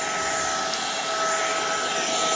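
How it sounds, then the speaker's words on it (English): A Proscenic cordless vacuum cleaner hums at a steady, high-pitched whine, running continuously at an even level throughout without pause. "It's not that loud, but you could adjust it, do auto and lower."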